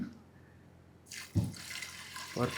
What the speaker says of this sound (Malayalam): നമ്മള് വേവിക്കണമെങ്കിൽ വെള്ളം ഒഴിക്കണം.